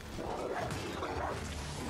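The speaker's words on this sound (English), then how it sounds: "Oh, evil dogs." Dogs in the video game Dragon's Dogma 2 bark and yip steadily over a dense game soundscape, close and fairly loud with no talk.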